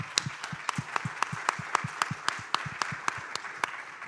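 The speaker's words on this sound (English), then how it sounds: "I feel like that might deserve a round of applause." Audience applause at a summit panel, a modest round of clapping with distinct, fairly regular individual claps standing out over a softer bed of hands, steady for about four seconds with no talking.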